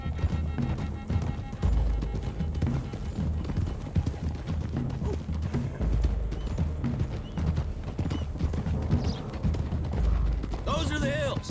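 Horses galloping hard across open country in Red Dead Redemption 2, dense drumming hoofbeats under a busy game score and rumbling action throughout, with voices talking at times.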